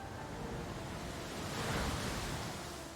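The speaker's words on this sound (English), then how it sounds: "He's going to go with a Muddy Water." Muddy Water attack effect in a Pokémon battle, a steady rushing wash of water noise that swells slightly in the middle, alone and moderately loud.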